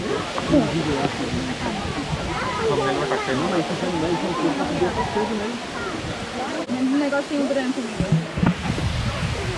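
Powerscourt Waterfall in Ireland, one of the country's largest, gives a steady, even rushing roar that fills the whole clip beneath ongoing conversation.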